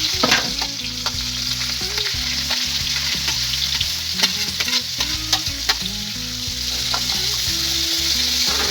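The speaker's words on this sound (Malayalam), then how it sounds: "ചിക്കൻ പൊരിച്ച എണ്ണയിലേക്ക് തന്നെ നമ്മൾ സവാള ഇട്ട് കൊടുക്കാം" Sliced onions dropped into oil left over from frying chicken for a Sunday chicken curry, sizzling loudly and steadily up close while a spoon stirs and scrapes the pan in irregular knocks.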